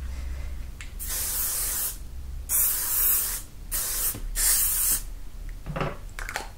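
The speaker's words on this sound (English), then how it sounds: "And then if you like, you can finish with a bit of hairspray." Hairspray hisses from an aerosol can onto hair in several close, steady bursts of roughly a second each, separated by short pauses, with no voices.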